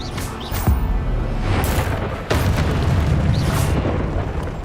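Spell-casting in Hogwarts Legacy, with Expelliarmus among rapid spells: a dense, roaring blast texture with sharp booming bursts near the start and around two seconds, loud and continuous throughout, no speech.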